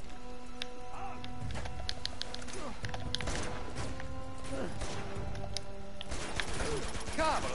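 Gunfire in Uncharted 2: Among Thieves plays as bursts of sharp cracking shots scattered through the span, mixed with crashes and debris, fairly quiet under game ambience.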